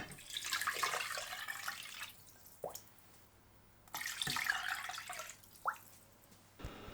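Water pours into a pot holding chicken, onion, ginger slices and salt in two short splashing bursts with small bubbling drips between, quiet and close, with no speech.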